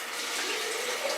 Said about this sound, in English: I'm just going to fill the bottle with some cold water